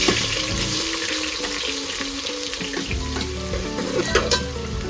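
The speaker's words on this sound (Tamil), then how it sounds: "பச்சை மிளகாய், வெங்காயத்தை போடுறோம்." Steady, loud sizzling of green chilies and onions frying in hot oil for vegetable biryani, with occasional stirring clatter and no voices.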